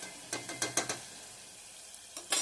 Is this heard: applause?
no